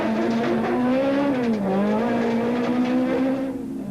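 Rally car driven flat out on a special stage, heard from inside the cabin: a loud, unbroken engine roar that rises and falls in pitch as it is revved through quick gear changes, with no talking.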